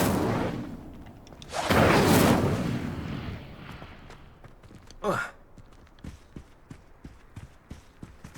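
Incendio fire spell cast in the Hogwarts Legacy video game: a loud whooshing burst of flame up close, followed by a sharp flare and a run of soft rhythmic footsteps.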